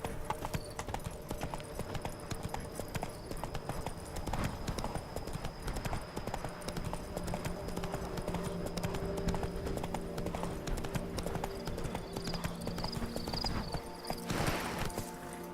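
Roach, a horse in The Witcher 3: Blood and Wine, trots along with steady rhythmic clip-clopping hooves running through the whole stretch over faint ambient background, with no one speaking.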